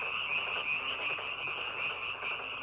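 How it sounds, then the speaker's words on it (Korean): Tree frogs croak in a continuous trilling chorus, steady and fairly faint, with no voices. "요란스럽게 우는 청개구리들의 그 슬픈 울음은 바로 그때부터 시작된 것이랍니다."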